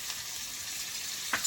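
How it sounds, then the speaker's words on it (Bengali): Pointed gourd being turned with sour curd and spices in a pan, a faint steady sizzle with one soft scrape of stirring near the end, no talking. "দইয়ের সঙ্গে মশলার সঙ্গে পটল একটুখানি এরকম নেড়ে চেড়ে নেব"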